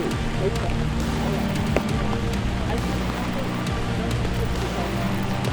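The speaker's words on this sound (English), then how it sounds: "You can see it's still a torrential downpour." Dense, steady hiss of heavy torrential rain pouring down during a sailing regatta race, with a few sharp drop impacts and a low rumble underneath.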